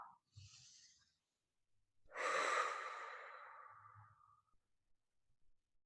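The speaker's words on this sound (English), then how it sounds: "take a nice slow breath in and slow breath out" One person breathes slowly and close up: a short soft intake, then a long audible breath drawn in and let out gradually, fading into quiet.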